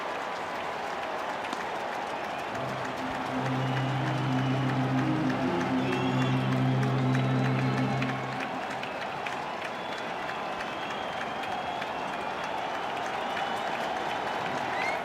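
A packed crowd at a Brewers versus Yankees baseball game cheers and applauds, with a sustained roar of clapping and voices that swells in the middle and then settles back into a steady crowd murmur.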